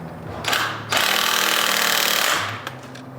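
A power tool tightens a new crankshaft bolt on a ZL1 engine with an ATI Super Damper fitted. A short burst is followed by a longer, loud, close rattling run of about a second and a half, then it winds down.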